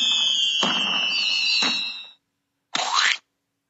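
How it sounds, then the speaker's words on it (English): Cartoon-like rainbow fireworks: a bright sustained whistling tone pierced by two sharp pops, a brief silence, then one short crackling burst. "The rainbow fireworks."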